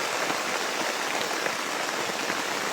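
Heavy rain pours down outdoors in a continuous, loud, uniform hiss with no pauses.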